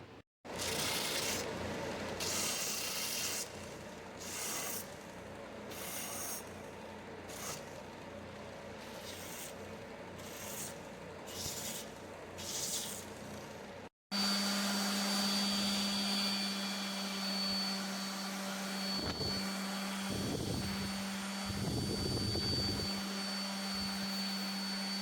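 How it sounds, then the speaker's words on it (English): A belt sander grinds a small wooden cube snowman in a steady, loud whirring roar. The sound briefly drops out partway, then resumes with a harsher tone as the sanding continues. "Now I'm going to take it over to the belt sander. I'm just going to sand this all up real good."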